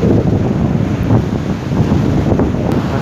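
Strong wind buffets the microphone on the storm-lashed shore at Kauguri, Jurmala, with heavy surf rumbling steadily underneath, loud and continuous, with no one speaking.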